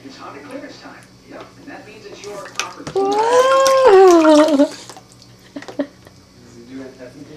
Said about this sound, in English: Oh, splashing. Splashing.